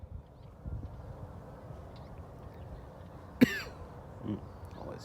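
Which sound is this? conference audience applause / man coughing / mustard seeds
man coughing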